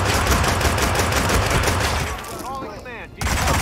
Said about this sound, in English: They got machine guns.